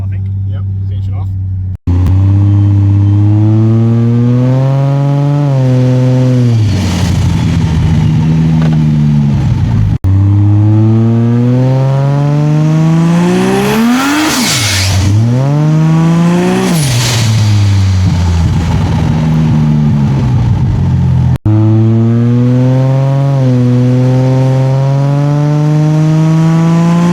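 Ford ED Falcon with a turbo Barra engine and louder exhaust, revving hard through several long rising and falling sweeps, close and loud, with people talking over it.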